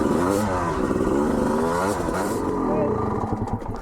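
A Honda CR250R two-stroke dirt bike with a broken-off clutch lever runs on a trail, its engine note rising and falling under constant loud talk.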